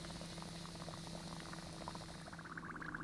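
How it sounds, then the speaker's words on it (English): Dry ice gas bubbles popping in epoxy resin, a faint continuous bubbling and fizzing with rapid soft pops, steady throughout under a low hum. "all that gas is being trapped in the bubbles just temporarily and it just keeps popping out"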